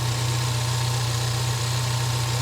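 Four-cylinder car with an aftermarket air intake idling, a steady low hum with constant vibration and no change in pitch throughout.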